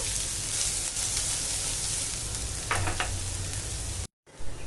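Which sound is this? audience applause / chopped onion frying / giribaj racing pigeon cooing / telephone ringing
chopped onion frying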